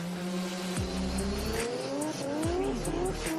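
A Pagani Huayra supercar with a 6.0-litre twin-turbo V12, rear-wheel drive and lightweight carbon body, sounds continuously loud and close, its engine note climbing through two rising gear pulls, with a drop between them and a brief squeal of tyres.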